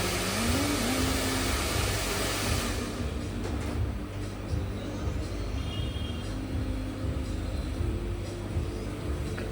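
A road vehicle comes up from behind and passes, heard as a steady, loud engine and road rumble that fills the whole stretch without a clear peak.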